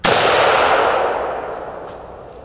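One loud, close gunshot during a turkey hunt, a sharp crack with a long ringing decay fading over about two seconds, with no talk over it.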